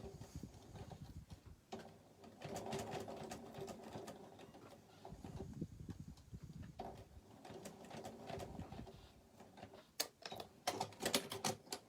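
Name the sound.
sewing machine top stitching zipper tabs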